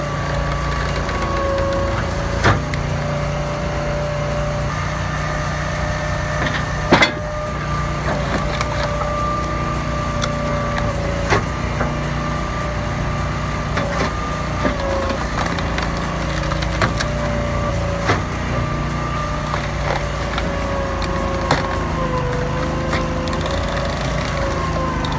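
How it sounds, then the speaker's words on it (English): A hydraulic auto-split machine splitting sycamore logs into firewood, its engine droning steadily throughout while sharp cracks and wooden knocks of splitting logs land at irregular intervals close by. "The auto-split system harnesses hydraulic force to transform dense sycamore logs into uniform firewood at remarkable speed."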